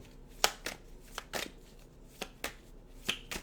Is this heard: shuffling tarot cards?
yes